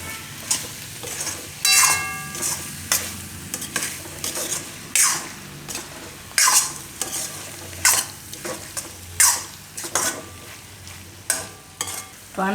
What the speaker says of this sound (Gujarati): તો આને આપણે હવે મિક્સ કરી દઈશું આમાં.